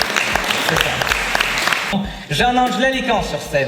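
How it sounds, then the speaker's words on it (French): Audience applause for the ladies at a stage event, a crowd clapping steadily under a presenter's amplified French voice, which grows louder toward the end. "donc les applaudissements pour nos chères dames"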